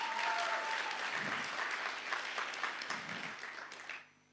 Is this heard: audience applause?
yes